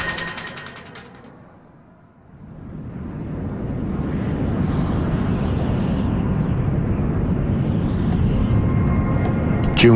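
A British Airways jet airliner cruises through the sky over Indonesia with a broad, steady roar that swells in after a quiet start and holds for several seconds.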